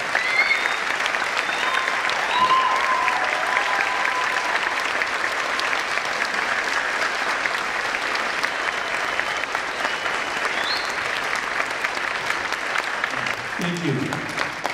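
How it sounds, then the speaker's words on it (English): A school assembly audience applauds veterans at a Veterans Day event, long sustained clapping from a large crowd in a hall, steady and loud throughout with faint voices underneath. "we give them a round of applause for their service"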